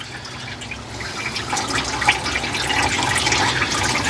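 Water from the water pump of a Ford F600 truck drains with a steady, close splash that grows louder and denser toward the end, with no talk over it.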